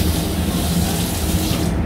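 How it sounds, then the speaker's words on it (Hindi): Water gushes from a household tap at home once the building's supply is turned back on, a steady, loud broadband rush that runs unbroken and close for the whole stretch, with no one talking. "अल्हम्दुलिल्लाह पानी आ गया।"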